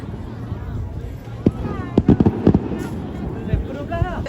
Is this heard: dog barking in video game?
no